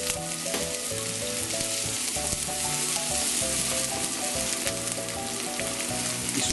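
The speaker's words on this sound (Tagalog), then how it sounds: "At once na mainit na yung cooking oil, kagaya nito, igigisa na natin yung onion." Yellow onions sautéing in hot cooking oil in a pan, a continuous close sizzle with crackling, backed by soft background music.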